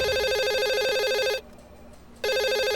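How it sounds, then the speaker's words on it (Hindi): A desk telephone rings with a loud, steady electronic trill that breaks off for a short pause and then starts again, heard alone. "आपके डेस्क पे फोन बज रहा है"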